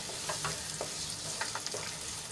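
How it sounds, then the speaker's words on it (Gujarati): Onions frying in a pan until reddish, a faint steady sizzle with several soft stirring scrapes, close and quiet, no speech. "તો ડુંગળી આપણી સંતળાઈ ગઈ છે।"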